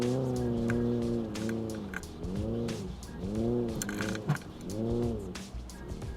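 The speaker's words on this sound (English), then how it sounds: "all that throttling I'm doing is kind of power braking through those obstacles" Subaru Crosstrek on Milestar tires crawling over off-road trail obstacles, engine revving up and down in repeated rising-and-falling surges as the throttle is worked against the brakes, with scattered clunks and rattles, close and steady.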